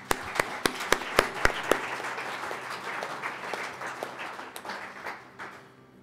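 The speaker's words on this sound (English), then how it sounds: "So let us give him a round of applause." Audience applause in a hall: a handful of loud, close claps ring out at first over a broader crowd clapping, which thins and fades toward the end.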